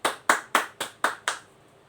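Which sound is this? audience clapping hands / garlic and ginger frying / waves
audience clapping hands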